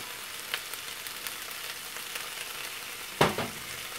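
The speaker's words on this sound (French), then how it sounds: "Je fais mijoter le tout environ 5 à 6 minutes jusqu'à la bonne cuisson de mes poivrons." Bell peppers seasoned with salt, black pepper, curry and herbes de Provence simmer in a pan, giving a soft steady sizzle with a few faint stirring clicks and one sharper clatter near the end, no talking.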